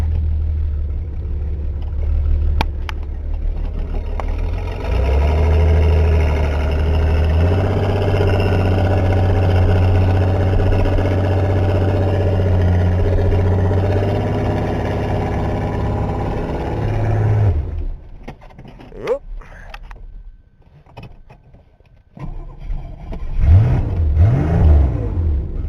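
A Ford car's engine running while driving in snow, a loud continuous drone that rises in pitch as it revs, then cuts out abruptly, leaving scattered knocks and rustles.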